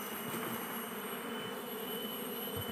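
A bee colony swarms out of its nest during a hive relocation, a dense, steady buzzing drone of many bees with no voices.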